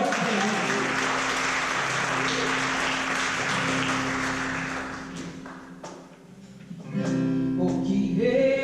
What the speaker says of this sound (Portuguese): A gente vem aplaudir e exaltar o nome do Senhor essa noite.